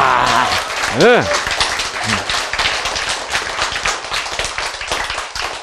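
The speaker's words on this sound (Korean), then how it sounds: "박수!" Audience applause and clapping from a crowd at a Korean health lecture, a steady dense patter sustained throughout, with a voice speaking briefly over it at the start.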